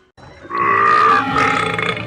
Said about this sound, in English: I would really like to belch right now.